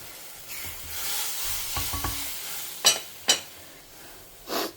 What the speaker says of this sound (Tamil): நல்ல வேப்பம்பூ நெய்யில் பொரிஞ்சு எடுத்து இப்போ புளிஜலம் ஆட் பண்ணிடலாம்